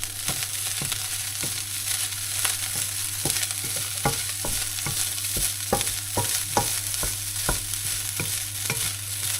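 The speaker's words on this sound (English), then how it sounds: "Get the spring onions in, just scoop them off, like, give them a push off, that's it. Give it all a stir." Spring onions sizzle steadily in a pan while a utensil stirs them, tapping and scraping in quick, regular strokes close by, with no speech.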